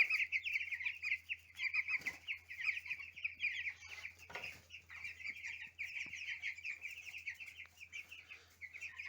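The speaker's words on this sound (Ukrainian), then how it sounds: "Ось так тут у нас живуть наші маці пухи." Cobb 500 broiler chickens at day 18 clucking and chirping steadily inside a barn, a dense continuous flock chatter with a low hum underneath and a couple of brief knocks.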